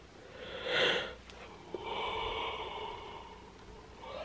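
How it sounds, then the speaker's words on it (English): A single person yawns while covering their mouth, a breathy rising exhale that is close and clear, followed by a longer, softer drawn-out breath. "I'm trying to cover my mouth while I yawn so I don't make all of you yawn."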